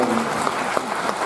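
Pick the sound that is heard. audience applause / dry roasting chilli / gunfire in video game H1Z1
audience applause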